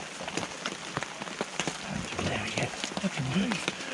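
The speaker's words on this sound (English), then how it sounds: "Just hear the raindrops." Rain patters steadily and close on a jacket hood outdoors in winter, a dense crackle of drops running throughout while people talk nearby.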